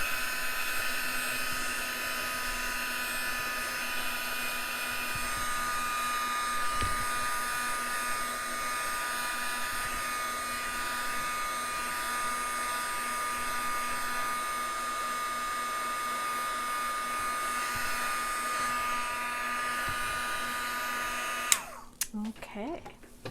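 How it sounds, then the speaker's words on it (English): A heat gun blows steadily on a card to set blue ink, a close, constant whirring hiss sustained for about twenty seconds before it clicks off abruptly. "we're going to do that again with the heat gun"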